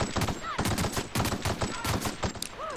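Assault rifle fire in The Outer Worlds video game, loud rapid bursts of close gunshots in a quick staccato rhythm throughout, with brief game sound effects mixed in and faint talk underneath.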